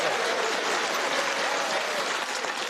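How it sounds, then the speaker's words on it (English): A studio audience on a TV comedy panel show gives the panelists loud, steady, continuous applause at an even level throughout. "give that round of applause"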